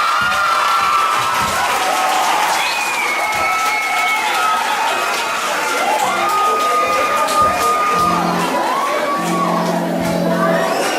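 A large crowd of children cheers and shouts loudly and continuously at a school house sports event, with whoops rising over the steady roar.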